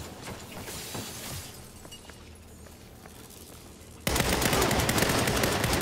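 Heavy automatic fire from powered guns in Saints Row rattles in quick bursts with shattering impacts, moderate at first, then erupting into a loud, continuous barrage.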